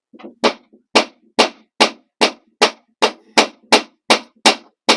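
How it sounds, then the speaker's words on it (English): Steady hammering, about a dozen sharp, loud blows at an even rhythm, close by with nothing else in between. "Get fingers out of hammer range."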